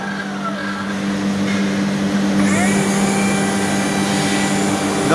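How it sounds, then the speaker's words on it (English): A Toyota electric reach truck that had a no-drive fault now moves under power. Its motor gives a steady electric hum, and a rising whine grows louder partway through. "As you can see, it's driving now."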